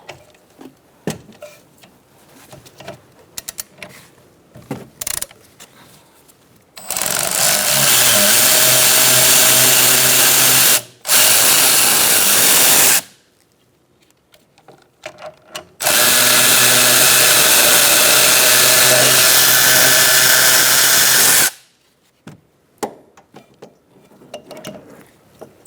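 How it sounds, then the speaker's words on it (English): A power tool, likely an impact driver, works the brake caliper pins on a 2012–2018 Ford Focus during a rear caliper replacement, running in two long loud bursts with a short blip between, amid quiet clinks and handling noise. "Using a 7mm Allen wrench, I'm going to take out these pins. I'm going to loosen both at the same time,"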